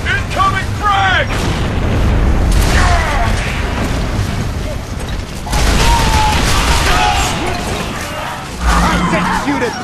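Frag grenade blasts in a Gears of War: Judgment team deathmatch, loud booming bursts with crashing debris that recur several times over constant gunfire and mechanical game noise, while voices call out.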